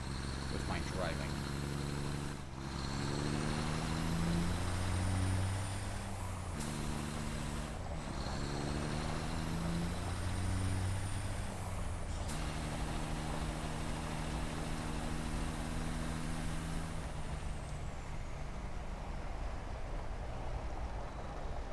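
A truck in Satisfactory drives and backs up to a platform, its engine droning steadily with rising and falling tones, broken by several short cuts and a brief hiss, while a voice talks over it at times.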